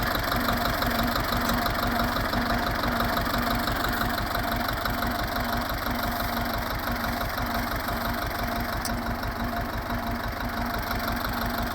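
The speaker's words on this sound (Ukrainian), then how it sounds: "Трактор прогрівся, вже можна в цю фігню забирати." A warmed-up tractor engine idles steadily and loudly up close, with an even low chugging rhythm that never changes and no voices over it.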